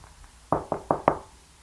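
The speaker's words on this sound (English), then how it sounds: "A knock at our door." Four sharp knocks on a door in quick, even succession, close and fairly loud, with near silence before and after.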